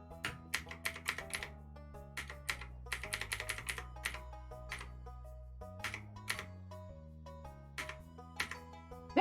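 Rapid bursts of computer keyboard typing, close and fairly loud, arriving in quick irregular clusters with short pauses, over steady background music during a session of digital art commission work.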